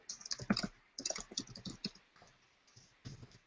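Rapid typing on a computer keyboard, with bursts of crisp, close key clicks separated by short pauses, loud and clear without any talking.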